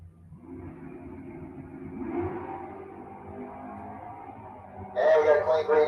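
A 1968 Chevrolet Camaro and a 1969 Camaro launch off the line in an ET-series drag race at Gainesville Raceway, engines droning at a distance before a sudden louder roaring surge as the cars pull away.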